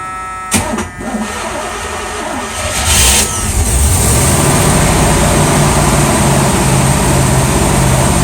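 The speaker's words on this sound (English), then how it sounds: "the next thing you'll see is the engine started up" A 1978 Chevrolet El Camino engine with a new cam, manifold and Holley four-barrel carburetor cranks and catches after a couple of seconds, then settles into a loud, steady idle that runs continuously close by, with no valve ticking.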